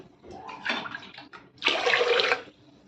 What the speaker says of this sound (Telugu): ఇలా బియ్యానికి 2 గ్లాసులు నీళ్ళు పోయాలి.